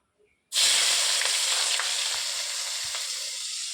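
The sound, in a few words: chopped onion frying in oil with whole spices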